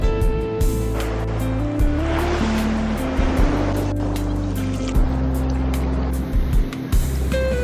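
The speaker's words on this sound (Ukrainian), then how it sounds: "Сьогодні хвилі." Steady roar of rough surf breaking on the shore at Karolino-Bugaz beach, loud and continuous, with a low droning engine hum running underneath.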